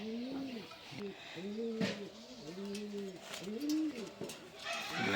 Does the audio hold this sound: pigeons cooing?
yes